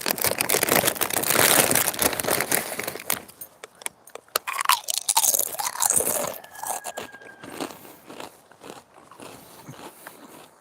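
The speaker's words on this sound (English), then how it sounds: "We'll do some ASMR chip eating." Tortilla chips being crunched and chewed close to the mic in ASMR style, outdoors on a cool day, a dense run of crisp crackling bites that thins out into sparser crunches.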